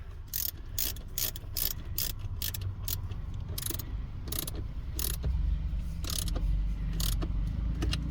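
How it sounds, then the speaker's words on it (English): A ratchet tightens the battery terminal nut on a VW Touareg, with a rapid series of sharp metallic clicks in quick bursts over a low background hum, close up and without talk. "then we tighten that little nut."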